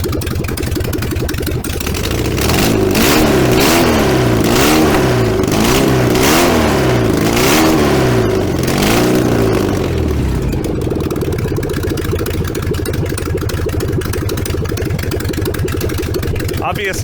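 Freshly built 1915cc engine in a VW 1303S Beetle firing up for its first run with no exhaust fitted, loud and raw, revving in repeated rising and falling sweeps before settling to a rough, lumpy idle close by.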